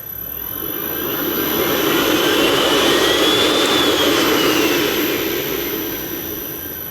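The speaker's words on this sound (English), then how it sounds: "you can turn on your vacuum in two ways. You've got your manual on," An AIRWORX 55T vacuum switches on and roars steadily, a loud jet-like whine that swells over the first seconds and holds, with no voices.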